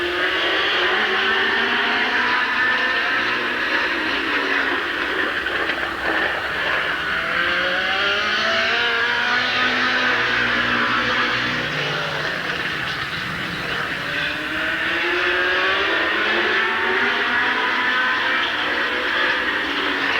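Late model race cars roaring around Midvale Speedway at a 1988 race, a loud continuous engine drone with rising and falling tones as cars pass, heard from the stands with no talk.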